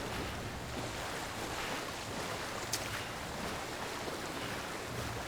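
Ocean waves wash steadily against the shore in Death Stranding, a continuous broadband surf roar with wind, loud and unbroken with no voices.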